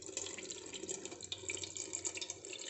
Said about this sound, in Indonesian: Biar bersih sekalian dibilas.